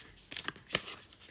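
A deck of tarot cards being shuffled by hand, heard as a few quick papery riffles and crinkles, close and fairly soft, with no talking.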